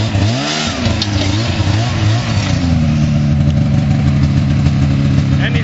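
A snowmobile engine running close and loud as the machine drives forward out of a hole in the snow, with a steady mid-pitched drone that shifts in pitch while it pulls ahead.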